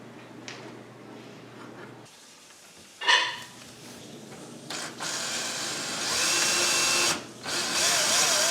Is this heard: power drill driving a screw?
yes